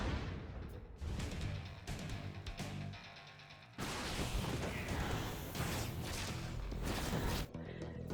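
Tanks shelling a base in a StarCraft II match, a busy stretch of booming impacts and crashes that grows louder and denser halfway through, with a commentator talking over it.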